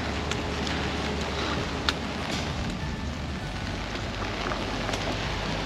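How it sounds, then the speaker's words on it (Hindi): Continuous hiss of heavy rain pattering on surfaces, steady and dense, with a faint low rumble underneath and no voices. "बाहर हो रही है बहुत बारिश"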